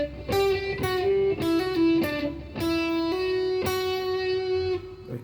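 Distorted electric guitar plays a short melodic phrase from the solo of a song, sustained, singing notes with a few quick picked changes, close and alone without talking.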